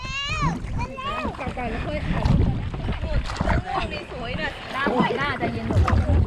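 Oars splash and churn water as a rowboat is paddled along, with wind buffeting the microphone and excited voices, including a child's, shouting and talking throughout.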